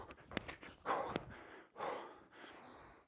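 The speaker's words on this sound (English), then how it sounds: "I know you'll be panting." Heavy breathing after a bodyweight tuck-jump workout: several deep, rhythmic gasping breaths close to the microphone, with a couple of sharp clicks and a quiet room behind.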